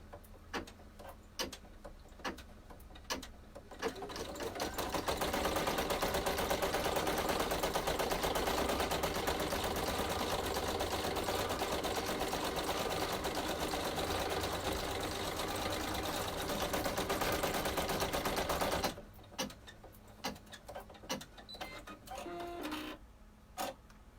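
A home embroidery machine runs steadily, stitching the tack-down line for a zippered fabric key fob. It gives a continuous rapid mechanical whirr and clatter for about fifteen seconds, and short handling clicks come before and after it.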